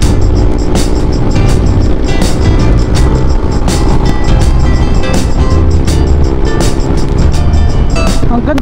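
A Suzuki Raider 150 motorcycle engine drones steadily while riding, a loud, sustained buzzing with a constant pitch, mixed with wind rush and road noise and punctuated by occasional sharp clicks and knocks.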